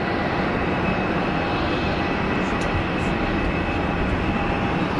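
Airliners on the runway at Geneva Airport, with a loud, continuous jet engine roar that holds steady throughout, close and unbroken, without voices.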